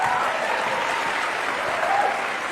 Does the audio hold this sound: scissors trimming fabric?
no